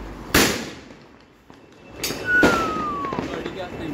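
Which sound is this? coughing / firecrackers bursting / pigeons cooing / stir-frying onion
firecrackers bursting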